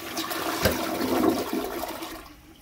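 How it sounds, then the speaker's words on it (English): A newly installed toilet flushes once, a close rushing swirl of water that builds, holds for about two seconds, then fades as the bowl drains, with no talk. "The first flush."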